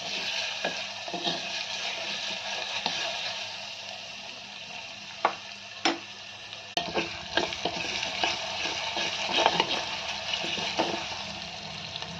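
Chopped onion, green chilli, crushed ginger and curry leaves fry in a pan with a continuous close sizzle, punctuated by a scattering of scraping stirs and spatula taps, with no voices.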